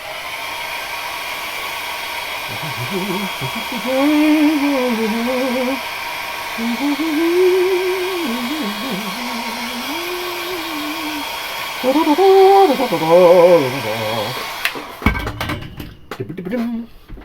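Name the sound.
hair dryer drying brush-painted miniature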